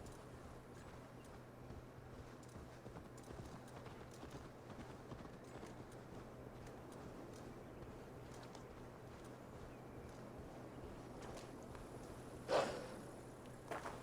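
Horse hooves clopping steadily in Assassin's Creed Valhalla, a continuous galloping patter under a low constant hum, fairly quiet, with a brief louder thump near the end.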